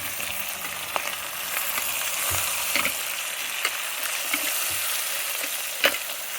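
Goat trotters (paya) frying with spices in a pan give a steady close sizzle, with occasional sharp knocks and scrapes from stirring and no talking.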